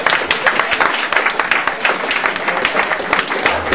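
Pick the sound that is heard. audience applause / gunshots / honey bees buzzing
audience applause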